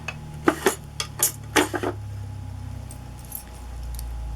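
Small rusty metal trinkets and a key being handled clink and jangle in several sharp, close bursts, then give way to a low hum with a soft rumble rising at the end.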